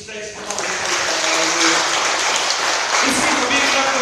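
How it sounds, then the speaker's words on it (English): Church congregation clapping for Jesus Christ at a Catholic service led by a pastor, a loud sustained wash of applause filling the room, with voices and cheering mixed in throughout. "Can we give a big clap to Jesus Christ?"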